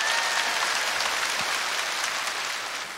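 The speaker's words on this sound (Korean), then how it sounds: "박수!" A large audience at a televised Korean amateur singing contest in a Busan gymnasium bursts into dense, sustained applause, loud and steady throughout with no voice over it.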